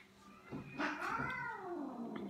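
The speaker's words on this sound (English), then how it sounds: "My cat and dog are always fighting." A cat lets out a single drawn-out, wavering caterwaul during a fight with another pet, rising and bending in pitch for about two seconds at moderate volume over a faint background.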